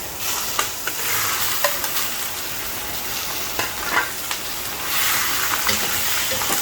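Chicken simmering in coconut milk sauce in a pan gives a steady, close sizzle and bubbling hiss, broken by occasional soft clinks and stirring scrapes, with no voices.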